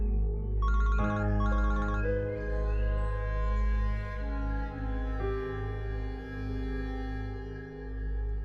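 A telephone keeps ringing unanswered in a drama scene, its repeated electronic ringtone bursts standing out over a sustained musical score that runs throughout.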